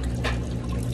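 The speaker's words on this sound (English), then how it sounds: "Now I'm gonna fill the little canister with just water" Water pours into the small canister of a carpet cleaner, a short, steady splashing gush heard up close.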